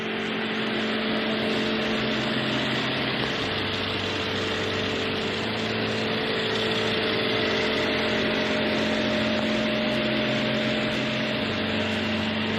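A 2019 Mercedes-Maybach S 560 engine runs at idle, giving off a steady, quiet, even hum with a faint higher whine and no change in pitch or loudness throughout. Nobody speaks.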